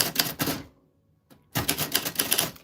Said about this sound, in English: That's how your name sounds on a vintage typewriter.